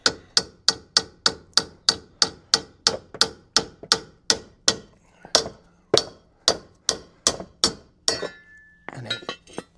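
A small club hammer taps out suspension bushes on a Mini in a steady run of about twenty sharp metallic knocks, close and evenly spaced. A few looser clanks follow at the end.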